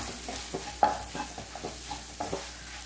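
Chilli powder, pepper and garam masala being mixed in a frying pan for chicken biryani, a faint close sizzle under soft intermittent spoon scrapes and light taps, with no talking.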